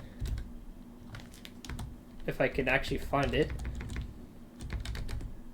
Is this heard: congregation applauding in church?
no